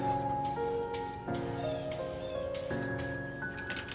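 Spray can of etch primer hissing in steady bursts, close and fairly quiet, with short pauses between passes.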